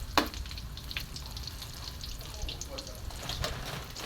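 French fries and chicken fry in hot oil at home, a dense continuous crackling sizzle close by with a few sharper pops, fairly quiet and steady throughout.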